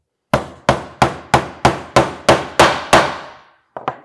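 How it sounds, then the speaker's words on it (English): Nine sharp, evenly spaced hammer blows drive a nail into the corner of a wooden planter box, each strike ringing briefly. One lighter double tap follows after a short pause. "we're going to hammer that nail in to square off the bottom of our box"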